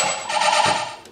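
An Oberheim OB-X synthesizer voice played after its memory was rewritten, a single sustained bright tone about a second long, near and steady.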